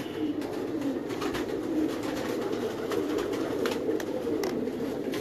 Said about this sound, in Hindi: चैंपियन छत का वो कबूतर